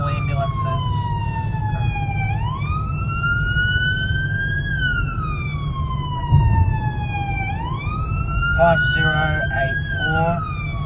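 An ambulance siren wails and sweeps up and down in repeating cycles, loud and close, with traffic rumble underneath and brief radio chatter or voices mixed in.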